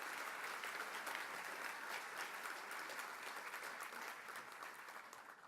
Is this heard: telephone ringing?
no